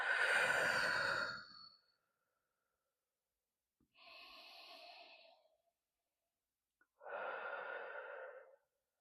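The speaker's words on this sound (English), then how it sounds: "Take a few deep breaths." Three deep breaths during a meditation, each a long airy sigh-like exhale separated by a few seconds of silence, close to the ear and unaccompanied by any voice.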